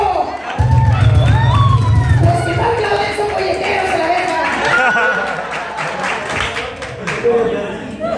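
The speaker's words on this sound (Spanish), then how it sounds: "¡El aplauso fuerte para el cumpleañero!" A birthday party crowd in Culiacán, Sinaloa, cheers and claps loudly for the birthday boy, with shouting voices and talk over the dense, close clapping.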